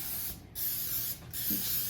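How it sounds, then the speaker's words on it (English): Cooking spray hissing from an aerosol can onto a muffin tin in a kitchen, two long close bursts separated by a brief pause, no talking. "You want to give it a good spray, make sure each"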